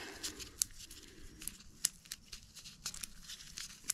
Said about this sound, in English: we're using JB Weld steel stick. Gonna unwrap it.